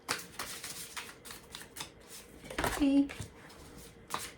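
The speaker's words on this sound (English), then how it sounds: "no, I gotta shuffle these first." A deck of cards being shuffled in a riffle of crisp, rapid flutters, close to the microphone, while a person talks over and around it.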